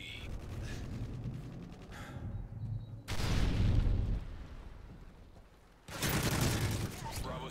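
Call of Duty MW3 gunfire on Xbox One X: loud, dense bursts of automatic fire and blasts, with a heavy volley near the three-second mark and another near six seconds, and quieter shooting between them.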